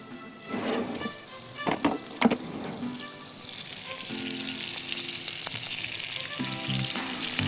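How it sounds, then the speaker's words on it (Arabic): Steady frying sizzle while making apple pie, with a few clatters and stirring knocks early on, then a continuous hiss holding at moderate level, no talk. "كده أول ما ابتدي أسمع صوت التحمير"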